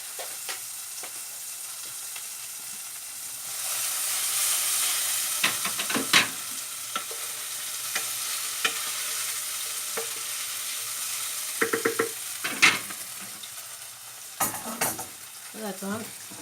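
Spices such as salt, black pepper and chilli flakes stirred into a sizzling pan for yogurt meatball soup, with a steady close fry hiss and intermittent scraping and clinks of the utensil.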